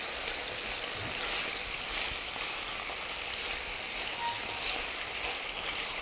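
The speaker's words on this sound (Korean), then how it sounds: "이렇게 해서 이제 고기를 지지잖아요" Pork jowl sizzles in a frying pan, giving a steady, even hiss of spattering fat that holds at a moderate level throughout with no voices.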